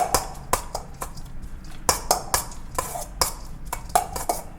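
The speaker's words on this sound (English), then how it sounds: "Mix it up." Salmon burger ingredients being mixed in a bowl, a steady series of sharp utensil clacks and scrapes against the dish at an irregular rhythm, close and fairly loud with no talking.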